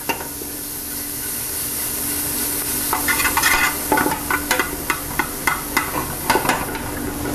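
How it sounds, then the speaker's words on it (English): Bacon sizzles in a pot for quahog chowder, first a steady hiss, then a run of scraping, clattering stirring strokes from about three seconds on. "You want to cook that up so it sweats, get all that nice grease coming off the bacon."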